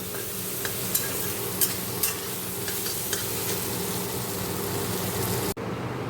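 Potatoes, pointed gourd and morola fish fry in a pan with a dense, continuous close-up sizzle and faint stirring clicks before the sound cuts off sharply near the end.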